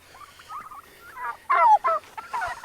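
Several turkeys gobble nearby on a farm, with a series of rapid, warbling gobbles in short bursts, the loudest calls coming close together midway.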